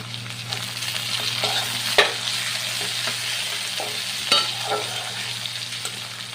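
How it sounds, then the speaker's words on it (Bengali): Chopped tomato stir-fried with onion, garlic and ginger paste in a pan, a steady sizzle broken by a few sharp spatula scrapes and clacks against the metal, with no speech. "টমেটো কুচি দেওয়ার পরও ভালো করে কষিয়ে নিতে হবে"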